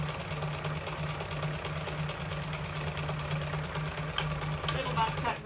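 Domestic sewing machine stitching fabric from start to end with a short back tack, a steady mechanical whirr with even rhythmic pulsing held close and continuous, with a brief shift in pitch near the end.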